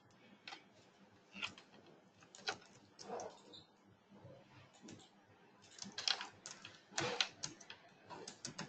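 Quiet, steady typing on a computer keyboard while entering a title into help desk software, with irregular clusters of soft key clicks and a few louder keystrokes, close and alone.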